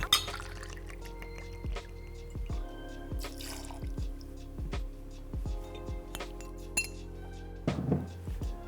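Gin trickles into a glass at close range, making soft dripping and splashing with repeated light clinks of glass throughout, and no voices.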